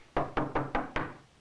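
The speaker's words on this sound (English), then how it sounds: "Well, let's knock." Five firm knocks on a wooden door in quick, slightly uneven succession, close and fairly soft, with nothing else heard.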